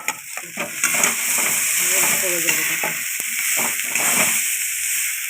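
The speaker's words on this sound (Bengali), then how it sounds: "একসঙ্গে আমি ভালো করে কষিয়ে নেব" Paste of green peas for kachori is stir-fried in a pan, giving a loud continuous sizzle broken by repeated scraping stirs of a spatula, close up.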